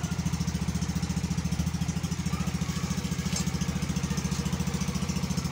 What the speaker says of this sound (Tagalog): Okay, umandar na siya. Tahimik makina.